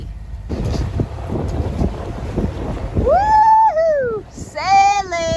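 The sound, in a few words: sailboat sailing in wind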